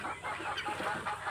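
A flock of domestic chickens being given separate feed, clucking and calling continuously and densely at close range, with no talking.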